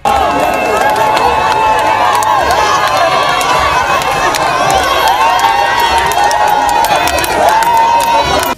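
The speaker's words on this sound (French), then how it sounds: "Une foule impressionnante était là, au point d'obliger le cortège de s'arrêter" A large, dense crowd cheers and shouts continuously around a presidential motorcade brought to a halt, a steady roar of voices with whistles and calls, close and loud from start to finish.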